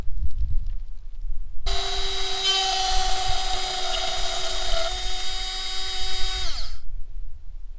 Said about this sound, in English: I'll grab my cordless drill, because you have to drill them out